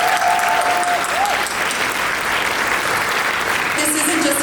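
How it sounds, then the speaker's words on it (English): An audience at a business award ceremony applauds loudly and continuously, a thick, sustained roar of clapping with a few faint voices mixed in. "Let's give a round of applause for that."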